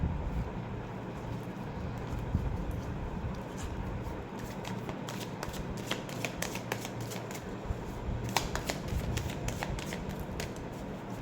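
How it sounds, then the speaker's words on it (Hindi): Tarot cards being shuffled by hand, a quiet, close rustling and riffling with repeated soft snaps and flicks, continuous with no talk. "Last shuffle."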